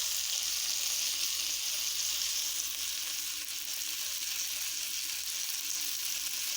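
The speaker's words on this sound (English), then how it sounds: "this is what the chicken is looking like so far while it's frying" A steady, loud sizzle of chicken frying in a wok fills the whole stretch, an even hiss with no talking.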